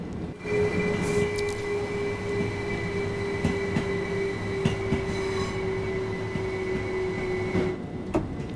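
A train running in the video game Train Sim World 2 on the East Coastway line, a steady rolling rumble with a sustained electric whine and occasional light clicks of wheels over track, heard alone.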